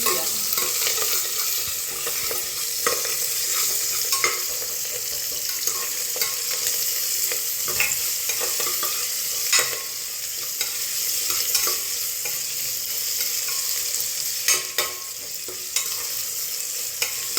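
Chopped onion and asafoetida sauté in hot oil in a pan for vatana batata rice. A steady low sizzle runs throughout, broken by occasional scrapes and clinks of a stirring spoon.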